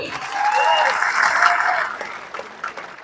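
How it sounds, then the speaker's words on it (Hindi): An audience claps steadily for a few seconds, a dense patter of applause that fades toward the end, with a voice or cheer mixed in. "एक बार उनके लिए जोरदार तालियां हो जाए"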